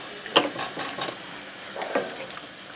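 Rabbit and vegetables frying in a pan for a Maltese pan-cooked rabbit dish, a soft steady sizzle broken by a few scraping stirs and light utensil taps, close and without talk.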